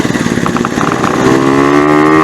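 A Yamaha RX-Z motorcycle engine hums steadily as the bike makes a U-turn, its pitch climbing and growing slightly louder toward the end, with no talking.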